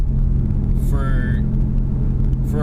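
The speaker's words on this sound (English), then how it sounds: "is the drone terrible? Is it too loud?" A Mustang EcoBoost with its muffler and resonator deleted gives a steady, loud low exhaust drone inside the cabin, continuous throughout, with a brief voice rising over it.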